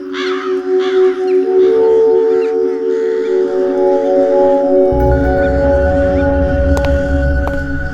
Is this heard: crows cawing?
yes